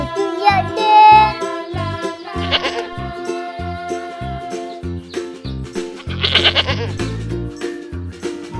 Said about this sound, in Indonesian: itu ada banyak kambing tuh